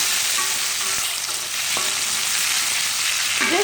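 Tomato pieces drop into garlic frying in oil for a Malaysian-style crab curry, giving a loud, steady sizzle with a few brief clinks and stirring taps, no voices.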